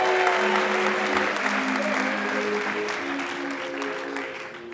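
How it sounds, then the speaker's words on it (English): Audience applause at a live storytelling show in Los Angeles, steady clapping from a full crowd that holds for several seconds and eases slightly toward the end. "Round of applause for Bryan Kett, true misfit."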